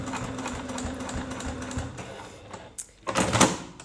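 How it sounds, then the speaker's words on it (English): A sewing machine stitches a zipper into a bag, its steady rapid needle hum running continuously before a few louder clunks and a brief burst near the end. "I really hope you can hear me over my machine once this is done, since I'm talking and sewing at the same time."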